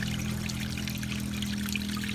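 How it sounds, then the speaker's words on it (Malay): Old coolant pours steadily out of a Mitsubishi Lancer engine block during a cooling system flush, a continuous close liquid gush and trickle with a constant low hum underneath. "kita pastikan semua coolant lama semua mengalir keluar"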